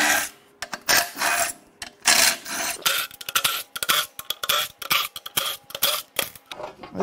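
Metal parts scraping and rasping as the oil pan comes off a blown-up GM 6.2L LT1/L86 Gen5 V8 from a 2015 Escalade, irregular bursts of grinding and clatter up close with short pauses, no talk.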